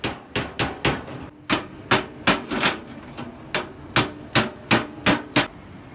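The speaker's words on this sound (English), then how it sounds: "we remove one side of the can, just with a knife and something to hammer it" A knife is hammered into the top of a tin can to cut one side open, about sixteen sharp metallic strikes landing in a steady, uneven rhythm, close and loud with no talking.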